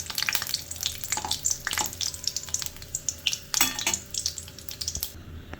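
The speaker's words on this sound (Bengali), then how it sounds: "এবার এটাতে ফোড়ন দিব শুকনো লঙ্কা," Dried red chillies and bay leaves crackle and sizzle in hot oil, a busy frying hiss with sharp pops, under scattered clinks of a utensil against the pan.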